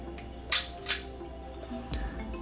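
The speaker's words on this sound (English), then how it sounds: "this is what the shutter speed sounds like close to the mic" A Holga camera shutter fires close by with two sharp, bright clicks about half a second apart, then a soft low thump, all in an otherwise quiet room.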